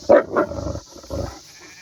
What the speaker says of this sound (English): he's got a vicious sounding bark, doesn't he?